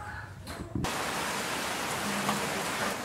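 Steady rain falls loudly and continuously, a dense hiss that takes over after a brief moment of talk at the start.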